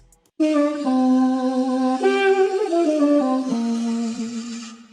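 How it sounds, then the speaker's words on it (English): A sustained sung vocal sample with a bright, steady pitch that shifts a few times, starting abruptly after a brief silence and held for several seconds. "And I found this vocal chop right here, which sounds like this."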